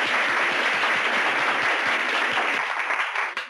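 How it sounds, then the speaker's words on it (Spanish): Studio audience applauding steadily with dense clapping for a few seconds, then tapering off abruptly at the end, no voices over it. "Un aplauso."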